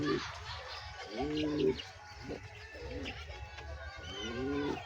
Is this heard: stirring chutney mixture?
no